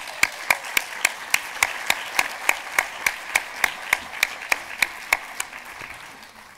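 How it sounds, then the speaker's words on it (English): A conference audience at the 35th APPI conference welcomes a speaker with rhythmic clapping in unison, about twenty crisp, evenly spaced beats that soften and fade toward the end. "a big round of applause to JJ"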